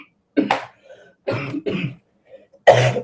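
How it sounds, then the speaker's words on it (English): A run of harsh coughs in quick, uneven bursts, close and loud, with short silent gaps between them. "The cough."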